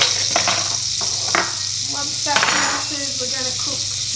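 Beef pieces and butter sizzle in a hot pan with a loud, close hiss, broken by clinks and scrapes of utensil against pan.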